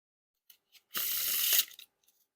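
A deck of Black Bicycle Standard playing cards spreads into a fan: a few soft taps, then a steady close, bright riffling rush lasting about half a second, trailing off into small clicks.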